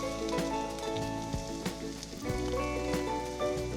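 Finely chopped onions with green chilli and ginger sizzling in a pan, a steady crackling fry with scattered pops and a faint tonal hum underneath, no voices.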